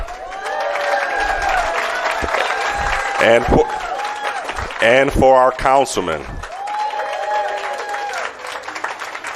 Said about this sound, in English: Let's give another round of applause for our mayor.